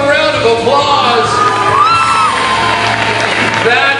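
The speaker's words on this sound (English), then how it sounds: "Folks, give them a round of applause." A crowd at the Fear Factor Live show at Universal Studios cheers, whoops and shouts over clapping, a loud, continuous din of many voices close by.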